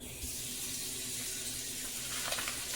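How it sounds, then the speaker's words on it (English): Hot water runs from a tap in a steady, hissing stream, close by and continuous, with no voices. "Let me turn on my hot water."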